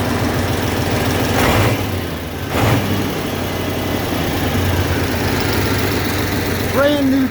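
A big V8 engine idles steadily on a restored 1970 Massey Ferguson 1150 tractor, a loud, constant low rumble close by with a couple of brief surges.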